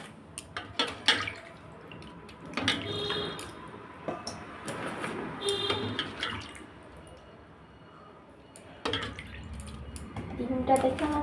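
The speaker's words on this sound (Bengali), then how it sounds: "ভালো করে ধুয়ে নিই ডিমটা, ডিমের গায়ে প্রচণ্ড পরিমাণে নোংরা থাকে।" Eggs rinsed under running tap water in a kitchen, a steady splash and trickle with brief dripping bursts, heard close with a person talking over parts of it.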